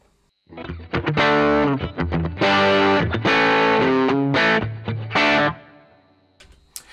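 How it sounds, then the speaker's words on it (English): A Vox AC20 guitar amp pushed into overdrive plays gritty, distorted chords and riffs in loud bursts, ringing out with a crunchy edge before falling quiet. "the next sound is that same AC20 but pushed this time"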